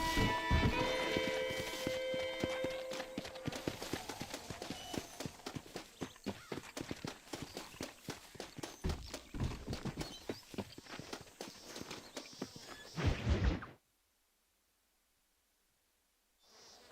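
Hooves clop steadily from a horse in a Western video game with a John Marston character, and a whinny is heard near the start. The hoofbeats run loud for about thirteen seconds, then cut to near silence.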